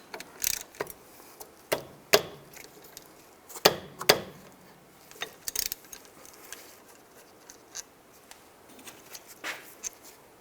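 Brake caliper bolts on a 2001-2008 Chevy Trailblazer are removed with a 14mm socket, giving sharp, sparse ticks and metallic knocks at irregular intervals, close but fairly quiet, with no talk.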